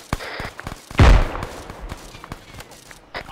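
A grenade launcher fires in a military video game, one heavy close boom midway through amid scattered lighter gunfire pops and distant combat noise.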